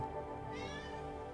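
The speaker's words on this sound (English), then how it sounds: "Like my cat over there, meowing because she wants food." A hungry cat gives one drawn-out meow in the middle of a low, steady hum of background noise, faint and somewhat distant, with no talking.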